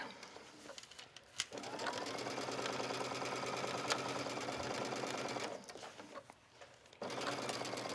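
A sewing machine runs steadily while sewing a curved pocket seam on an A-line skirt, its motor humming close and loud, then briefly slowing and pausing before starting up again.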